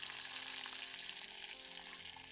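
Cumin and curry leaves frying in hot oil for a bottle gourd stir-fry, a steady, even sizzle and crackle that stays faint and continuous with no talking.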